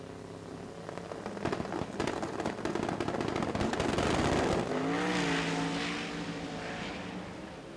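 Pro Street drag racing cars launching and passing during qualifying at the NMCA event in Indianapolis, a loud rising engine roar with crackling bursts that swells and then fades as they pass.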